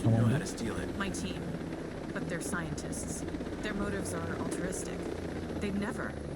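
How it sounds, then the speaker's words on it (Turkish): A helicopter in the Ghost Recon Breakpoint video game descends toward a helipad, a steady rotor drone under game effects, while a player talks over it throughout. "Şu helikopter pisti geliyorum oraya indireceğim."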